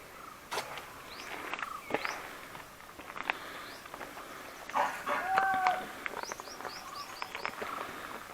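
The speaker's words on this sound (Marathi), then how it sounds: "पक्ष्यांचे आवाज भारी येतात ना." Birds call in a Sahyadri forest on a morning trek to Nageshwar Temple near Chiplun, with short rising chirps scattered through the clip over soft footsteps and rustling.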